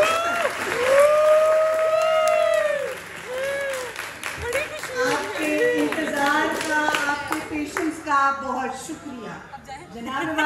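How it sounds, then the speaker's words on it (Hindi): A crowd at a film event greets the film's heroine with applause and scattered hand claps, mixed under loud, animated voices and cheering that stay in the foreground throughout. "तालियां।"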